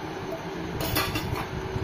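A utensil clinks and scrapes against a bowl as melted butter is stirred into ground biscuit crumbs for a no-bake cheesecake base, a short muffled clatter close by with no talking.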